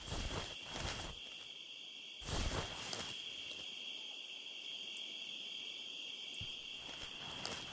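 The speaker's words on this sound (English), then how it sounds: "The ringing of the ears." A sustained high-pitched ear-ringing tone from the Metal Gear Solid 3: Snake Eater video game holds steadily throughout. It sits over quiet jungle ambience with chirping insects and a couple of louder rustling bursts.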